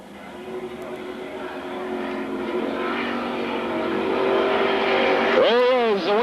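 Super stock race cars roar around the dirt track at Magic City Speedway in Billings, Montana. The engine noise swells steadily louder, then a car sweeps close past with a sharp rise and fall in pitch.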